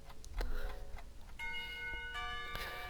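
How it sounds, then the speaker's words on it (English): A school bell chimes to mark the start of lunch in the visual novel Katawa Shoujo, its sustained ringing tones starting partway through and layering at a steady, moderate level with a ticking, clock-like quality. "The bell to signal the beginning of lunch rings out."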